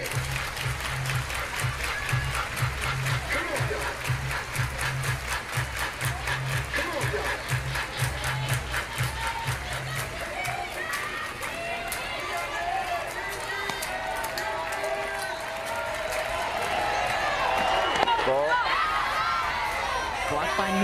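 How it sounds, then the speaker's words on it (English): A stadium crowd at an NCAA Women's College World Series softball game, Tennessee versus Oklahoma, claps in a steady rhythmic beat for about ten seconds, then dissolves into broad cheering and chatter, with a commentator's voice over it. "Everybody clap your hands."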